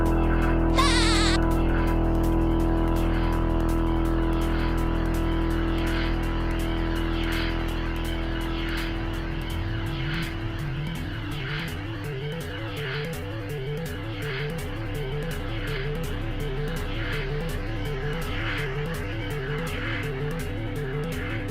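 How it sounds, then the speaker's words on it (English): A pulsing sequenced synthesizer loop with airport-style ambience in a track, a rapid repeating electronic pattern building steadily with whooshing textures throughout. "Sounds like we're in the airport."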